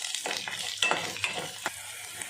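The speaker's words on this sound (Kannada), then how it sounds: "2 ಈರುಳ್ಳಿ ಹಾಕ್ತಾ ಇದ್ದೀನಿ. ಇದನ್ನು ಫ್ರೈ ಮಾಡ್ಕೋಬೇಕು." Two onions fry in oil in a pan, a soft crackling sizzle with scattered stirring scrapes, fairly quiet and close.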